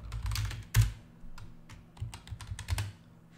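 Keystrokes on a computer keyboard as a terminal command is typed on Ubuntu, a close, irregular run of soft clicks with a louder thump near the start, no talking.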